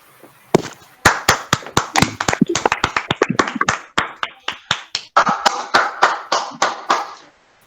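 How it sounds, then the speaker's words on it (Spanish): A small group applauds in a law class after group number 17's presentation: sharp, separate hand claps in an uneven, sparse patter, moderately loud and close, with no talking. "Un aplauso al grupo número 17."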